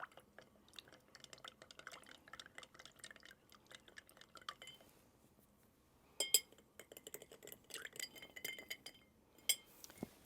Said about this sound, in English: And we'll give them a stir.